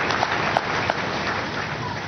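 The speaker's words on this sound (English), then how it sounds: "Let us clap for Jesus Christ." A church congregation claps in praise, a steady wash of many hands with a few sharper individual claps standing out, even and moderately loud throughout.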